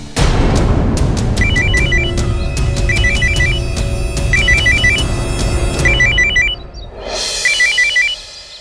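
A mobile phone ringtone plays loudly, a repeating electronic melody in short bursts, with a brief swelling noise near the end.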